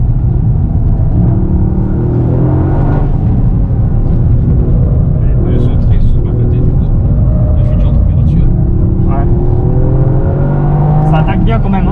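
A Toyota Yaris GR on stock tyres laps the Circuit de La Réunion, its engine droning loudly and steadily with rising and falling pitch as it accelerates and shifts, while people talk over it.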